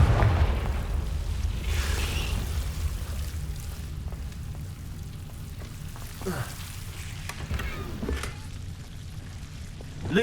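The Confringo blasting spell goes off in Hogwarts Legacy with a few short, crackling bursts against a hissing, fizzing magical background, fairly quiet and separated by a couple of seconds.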